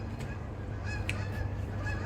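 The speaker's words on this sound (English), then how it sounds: "Geese." Geese honk repeatedly at a moderate distance in an episode of Brooklyn Nine-Nine, their calls rising above a steady low rumble of background noise.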